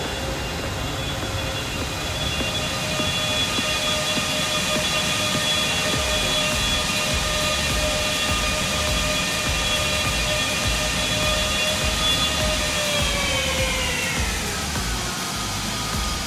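Airliner in the VATSIM flight simulator game, a continuous loud engine drone with steady whining tones that drop in pitch near the end as the plane touches down, with no talking.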